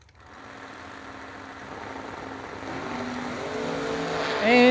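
A 1977 Ford Mustang race car at a drag racing event, its engine starting faint and swelling steadily louder as it approaches, ending in a loud, high-pitched rev.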